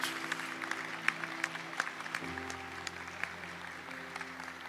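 A church congregation applauds during a sermon, a steady, moderately loud patter of many hands sustained throughout, with held keyboard tones sounding underneath.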